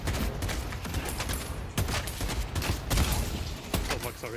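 Sustained gunfire in the hero shooter Deadlock, a dense crackle of overlapping shots and impacts running throughout at steady loudness, with sharp louder cracks standing out at a few points.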